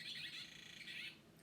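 Blue tit giving a longer call, a rapid run of thin, buzzy high notes with a brief dip midway, fairly faint and heard alone.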